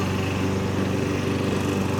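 A lawn mower cuts grass in a Missouri yard, its engine a loud, steady, close droning rumble with a fast flutter and no pauses.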